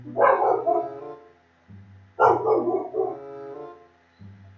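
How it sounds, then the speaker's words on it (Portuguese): A dog barks in two loud, close bursts of rapid barks about two seconds apart, with a low steady hum between and after them. "Eu tenho medo desse cachorro."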